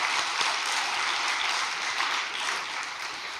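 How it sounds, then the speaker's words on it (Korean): Audience applause offered in thanks to a mother during a church gathering, a steady dense clapping from a crowd that holds even and sustained throughout, without speech. "다시 한번 참 어머님께 감사의 박수를 올려주시면 고맙겠습니다."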